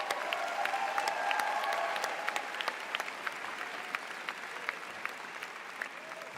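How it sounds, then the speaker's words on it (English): Graduates and guests at a Mount Royal University convocation ceremony applaud their supporters. Full, steady clapping fills a large hall, then thins to scattered individual claps as it fades. "So a round of applause for all your supporters."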